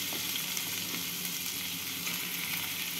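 Eggplant and potato pieces frying with onion in hot oil give off a steady, close sizzle that holds level the whole time, with no voices.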